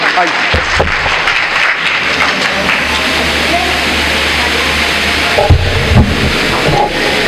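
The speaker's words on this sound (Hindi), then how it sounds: "जोरदार तालियां जुनैद इब्राहिम साहब के लिए" Audience applause welcoming a speaker at a student gathering, continuous clapping close and fairly loud, with a few sharper claps and brief voice sounds mixed in toward the end.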